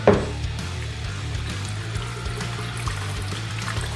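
Coconut water from a Costco-bought carton is poured into a container for a climbing drink, making a close, steady pouring trickle that lasts several seconds over a low background hum.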